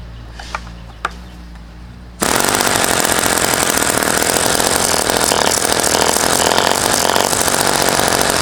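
An Enya 60 model glow engine, model 7032, running on Omega 10% fuel, starts after a few faint clicks and then roars steadily, loud and close, at a constant buzzing pitch.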